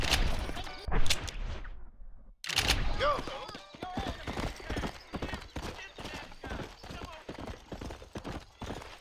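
Steady hoofbeats of a horse trotting in the Red Dead Redemption video game, a close rhythmic clip-clop after an opening burst of noise, with someone talking briefly over it.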